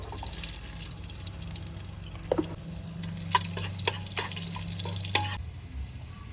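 Onions going into a pot of hot oil, frying with a steady low sizzle under a few sharp clicks and scrapes of a spoon against the pot, with no one talking.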